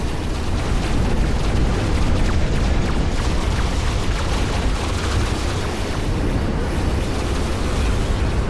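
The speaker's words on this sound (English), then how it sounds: "Enemy dreadnought destroyed" An enemy dreadnought blowing up in the game Ashes of the Singularity, a loud, dense, continuous rumbling roar of explosions filling the whole stretch without pause.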